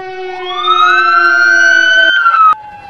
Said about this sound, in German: dann die Sirene und jetzt auch noch das Feuerwehrsignal?